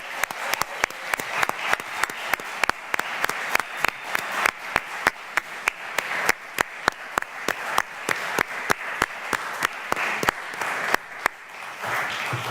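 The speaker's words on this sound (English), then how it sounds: "Let's give them a round of applause right now." Sustained applause from a crowd at an awards event, dense clapping that carries on evenly for several seconds before tapering slightly at the end.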